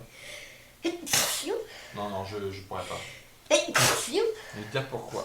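A single loud sneeze breaks into French conversation at a tabletop card game, followed shortly by a second sharp sneeze, with talking before and between them.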